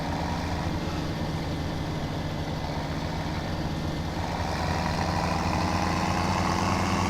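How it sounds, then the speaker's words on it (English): Tractor engine in Farming Simulator 17, a steady low rumble with a throbbing diesel texture, constant and moderately loud, no voices over it. "Oh, I love that roaring of this tractor here."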